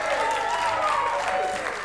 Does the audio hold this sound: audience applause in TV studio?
yes